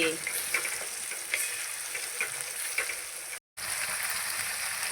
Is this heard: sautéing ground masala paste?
yes